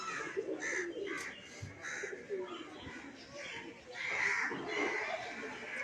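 Low, rolling coos from a flock of mixed pigeons at a mission in rural Bengal repeat in loose overlapping bursts near the listener, joined by occasional sharper bird calls and a crow in the background.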